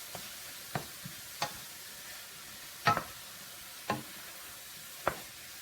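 Sliced plantains sauteing with minced garlic in a pan, stirred with a wooden spoon, giving a low background sizzle broken by about six separate scraping strokes spaced a second or so apart.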